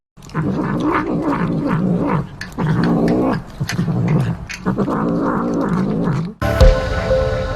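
A cat makes a loud, close, growly purring-murmur while eating, in long rhythmic bursts with brief pauses, ending in a sudden different noise.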